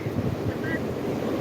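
Sea waves and wind at a crowded beach on Good Friday, steady rushing surf and wind buffeting the microphone throughout, with faint background voices.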